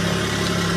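A loud, close Mercedes 300TE engine with a Megasquirt fuel-injection install idles steadily with a constant low hum and vibration.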